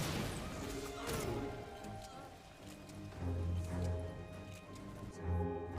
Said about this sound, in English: I just love the effects that blowing up this propane tank has on them